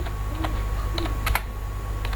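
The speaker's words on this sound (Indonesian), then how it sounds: "caranya dengan tombol delete ya untuk membuang di keyboard" Keys tapped on a computer keyboard, including the delete key, a few separate sharp clicks spread over two seconds against a steady background hum.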